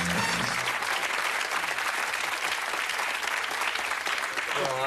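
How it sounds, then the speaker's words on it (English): A studio audience on a British game show claps warmly and continuously, with a voice speaking over the dense applause at the start and end. "Nice warm round of applause."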